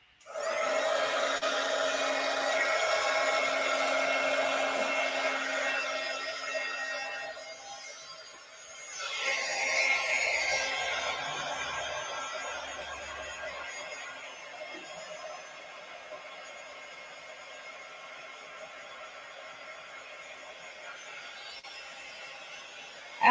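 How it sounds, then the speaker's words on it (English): An old Darice heat tool blows hot air for crafting with a steady, breathy whoosh, loud and alone for about eight seconds, then dipping briefly before continuing softer and fading. "it's just an old Darice heat tool"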